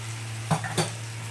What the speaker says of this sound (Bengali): আমি মশলাটা ভালোভাবে কষিয়ে নিচ্ছি